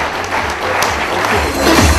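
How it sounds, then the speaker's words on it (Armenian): Applause for a bride and groom welcomed at a wedding, a dense steady clapping from a crowd that grows slightly louder toward the end, with voices mixed into the din. "Ավելի բարձր ծափահարենք երիտասարդ զույգին։"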